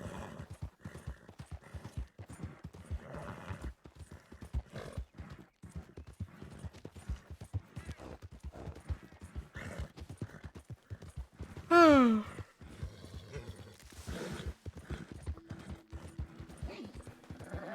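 In the Red Dead Redemption 2 video game, a horse's hooves clip-clop in a steady walking rhythm throughout, with one brief loud whinny midway and quiet talk underneath.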